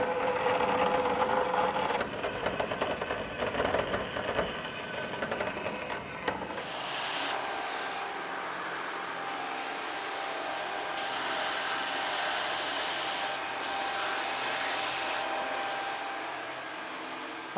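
A small piece of forged steel taper stock from an Italian blacksmith hammer is cut with a power tool, producing a harsh, steady whine that changes tone about halfway through and continues unbroken to the end.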